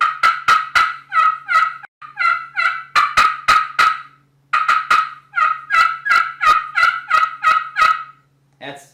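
Loud, sharp turkey yelps and cutts from a ceramic friction call, rapid strings of notes in quick bursts, near and with no talking.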